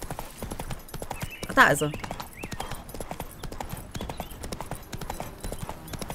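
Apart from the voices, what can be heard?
horse hooves galloping in a video game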